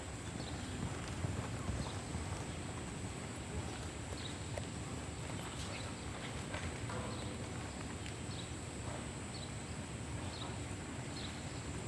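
Steady clip-clop of hooves from Feather, a horse ridden by Lisa Downs at a riding competition, a continuous walking rhythm under outdoor noise and murmured background voices.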